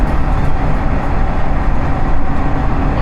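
Loud, steady rumble of a train in motion heard from inside, a continuous low roar with no voices, on a line about an hour out of Fukuoka, Japan.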